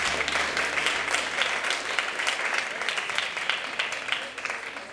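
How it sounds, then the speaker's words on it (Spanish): Studio audience applause for the winning team of a Spanish TV quiz show, steady dense clapping sustained throughout at moderate level. "Un fuerte aplauso."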